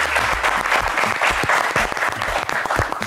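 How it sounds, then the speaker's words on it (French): Studio audience on the TV game show Le Coffre Magic applauds the six contestants, a loud, dense and continuous round of clapping with a low hum beneath it at the start, no speech over it. "Oui, on va applaudir les six."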